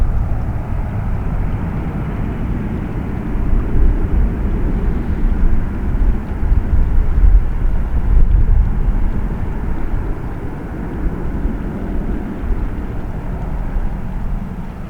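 An airliner takes off from runway 4 Left at JFK airport with a continuous, loud jet roar. The broad rumble swells and eases slightly over about fifteen seconds, with no voices.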